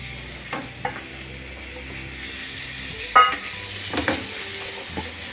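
Carrots and green peas with spices are being stirred in a pan over a low-to-medium gas flame, with a faint sizzle under occasional spoon scrapes and clinks against the pan.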